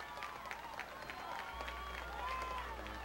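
Football crowd at a Tigres versus Porter game cheering and clapping for the hometown Cowboys, a steady moderate roar of applause with an announcer talking over it.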